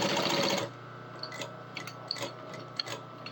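A sewing machine stitches rain chaps while a hand on the back wheel slows it, giving a loud, close whirring burst for about half a second that then drops to a quiet hum with faint scattered clicks.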